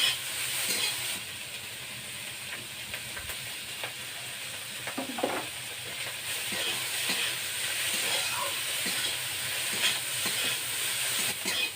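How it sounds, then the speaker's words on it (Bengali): Small shrimp coated with turmeric and salt fry in a little oil in a wok, a soft continuous hiss and sizzle with occasional stirring scrapes, fairly quiet and without talk. "চিংড়ি মাছটা আমার ভাজা হয়ে গেছে।"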